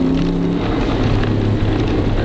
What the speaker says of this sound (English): Let's do second gear pull.